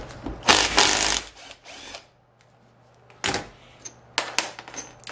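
Loosened 14 mm bolts being removed from a Mercedes W108 power steering pump, with close, loud bursts of ratcheting and metallic clattering separated by quiet pauses over a faint hum.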